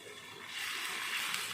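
Hot water poured into a pan for garlic Maggi noodles, a short soft splashing pour that swells in the second half and runs steadily, close and alone.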